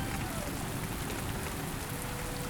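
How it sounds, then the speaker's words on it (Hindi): Steady, dense rainfall hisses continuously on surfaces nearby, a loud unbroken wash of drops with no pauses. "बाहर बहुत तेज बारिश हो रही है"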